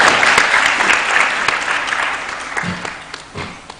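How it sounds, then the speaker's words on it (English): A round of applause from a conference audience at a women and girls in cyber event, dense clapping that swells early then thins out into scattered claps. "Another round of applause for our..."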